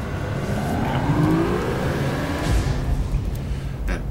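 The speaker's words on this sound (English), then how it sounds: "spooling up the FTL drives rather noisy" A spaceship's FTL drives spool up in the video game Starbound, a droning engine-like hum with rising, sweeping tones that builds and swells steadily, with no one speaking.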